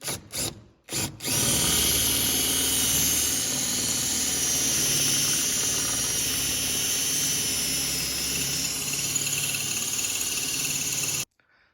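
A power tool, likely an impact gun or drill, runs continuously to remove bolts from a car during interior removal and paint prep, a loud steady whine lasting about ten seconds after a couple of brief starts.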